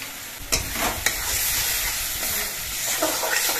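Spice paste fries and sizzles in a pan for a rohu fish curry, a loud, steady hiss close by, broken by a few sharp scrapes of a spoon stirring.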